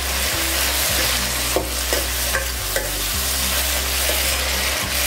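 Tomatoes sauté in a hot pan for a Chettinad okra mandi, giving a steady loud sizzle broken by several sharp scrapes and clinks as a spoon stirs them.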